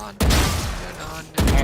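Gunfire in a video game comes as loud, dense bursts that fill the sound, with one long sustained volley followed by another burst starting.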